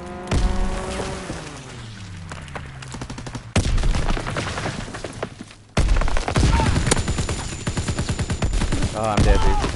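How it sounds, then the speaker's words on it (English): A fighter plane strafes the ground in Call of Duty: WWII: a droning engine tone sweeps downward, then loud, rapid volleys of gunfire and impacts burst out in repeated clusters, close and heavy. "Fighter pilot inbound, strafing the target."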